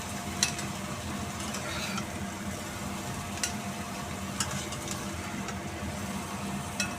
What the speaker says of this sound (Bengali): ফুলকপিটা ভাজা হয়ে গেছে, আর একটু তেল দিলাম